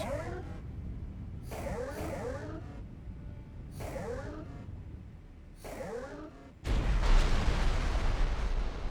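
Missiles striking in the space game X4: Foundations, a series of about five booming impacts with whooshing tails over a steady engine drone, ending in a louder sustained roaring blast.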